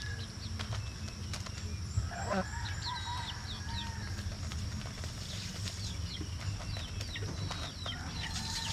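Domestic geese kept as pets call with scattered honks and clucks over a steady outdoor farmyard din, with other birds chirping nearby and brief wing flaps.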